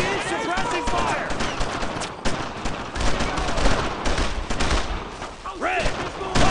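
Dense, rapid bursts of rifle and machine-gun fire from the World War II shooter game Brothers in Arms: Road to Hill 30, loud and continuous, with soldiers shouting over the shooting.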